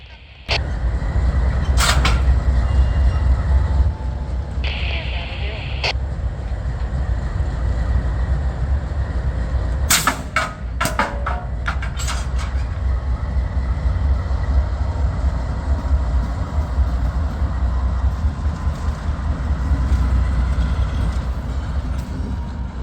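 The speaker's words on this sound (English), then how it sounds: "the two locomotives head to Mingo Junction Yard to pick up slabs" Two Norfolk Southern AC44C6M diesel locomotives move along the line toward a rail yard, a loud steady low rumble throughout with occasional metallic clanks and squeals over it.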